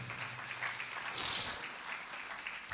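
A church congregation at a home worship service applauds, a steady wash of clapping from many hands that swells briefly in the middle and then settles, moderately loud with no voice over it.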